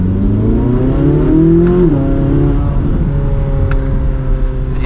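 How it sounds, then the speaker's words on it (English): A 2024 Chevrolet Corvette C8 Z06 3LZ accelerates, its loud engine climbing in pitch, dropping briefly at a quick shift, then pulling again, heard from inside the car with no voices. "so let's give it another acceleration here."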